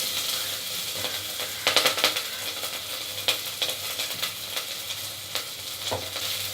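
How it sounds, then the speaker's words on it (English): Chopped ginger and green chilies gently sautéing in oil on a low flame, a soft steady sizzle with scattered clicks and scrapes of a spoon stirring the pan, close and without speech. "Let it lightly saute on low flame for about a minute"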